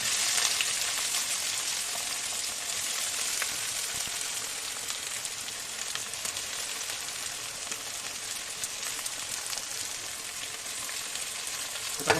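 Onions sizzle steadily in hot oil in a pan while fish curry is being made, a loud, continuous, even crackle that holds its level throughout with no voices.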